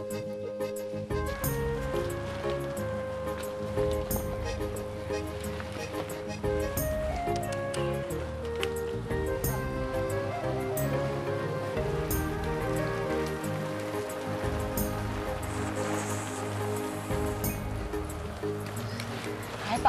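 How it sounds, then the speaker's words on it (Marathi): Monsoon rain patters steadily throughout, a continuous hiss beneath sustained background music and faint voices. "काय पाऊस आहे ना"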